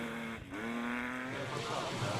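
A Porsche rally car races along a stage at the Legend Boucles de Spa event, its engine loud and close with rising and falling revs.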